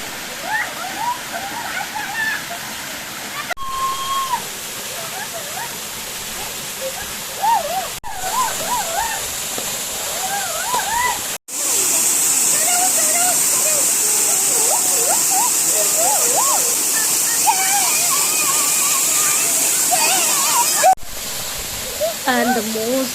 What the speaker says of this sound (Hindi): आपको मेरे पीछे पानी की आवाज़ सुनाई दे रही है,